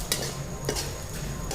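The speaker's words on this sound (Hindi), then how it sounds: "सूखी दाल ही डाल के और फ्राई कर रही हैं" Unwashed dry lentils are stirred and roasted in a hot pan, giving a soft, steady frying hiss cut by a few sharp scrapes and clicks of a spoon against the pan.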